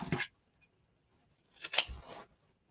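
Scissors snip through material while a rainbow deco mesh wreath is being crafted: one short cut, then a longer cutting burst about a second and a half later, close and fairly quiet against silence.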